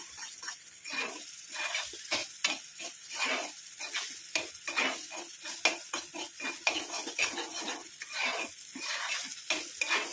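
A utensil stirs gooseberry juice into foaming hot oil in a pan, giving rhythmic scraping and clinking strokes over a constant bubbling sizzle, close and repeated throughout.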